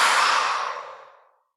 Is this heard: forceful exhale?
yes